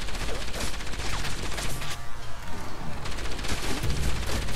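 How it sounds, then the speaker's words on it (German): Gunfire rattles in the PS3 action game Enslaved: Odyssey to the West, rapid repeated shots fired in dense bursts with a brief lull in the middle, loud and continuous over game noise. "Jetzt schießt er natürlich."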